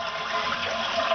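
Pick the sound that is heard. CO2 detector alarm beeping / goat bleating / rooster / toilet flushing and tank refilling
toilet flushing and tank refilling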